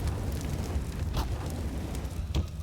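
A molotov fire crackles and burns steadily in Counter-Strike on the Anubis map, a dense, noisy roar that sits close and continuous, with a couple of brief flaring bursts partway through.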